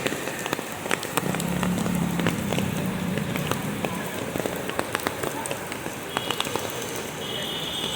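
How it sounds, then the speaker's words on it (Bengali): Rain patters steadily on a surface nearby, with scattered louder drops and a faint hum in the background. "ক্যামেরায় হয়তো দেখা যাচ্ছে না কিন্তু সামনেই দেখেন যে ঝুম বৃষ্টি হচ্ছে"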